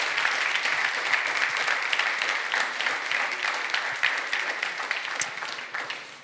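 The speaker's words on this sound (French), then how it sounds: "on peut les applaudir." An audience applauds at the final of a public-speaking tournament in Namur, a sustained, even wash of many hands clapping that continues for several seconds and tapers near the end, with no speech over it.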